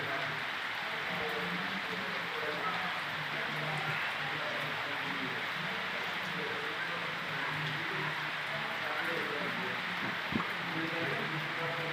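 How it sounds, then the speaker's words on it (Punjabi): Heavy rain falls in a steady, even hiss throughout, with a voice murmuring faintly underneath. "ਦੇਖੋ ਜੀ ਮੀਂਹ ਪੈਣ ਡਿਆ ਪੂਰੇ ਜੋਰਾ ਸ਼ੋਰਾ ਤੇ"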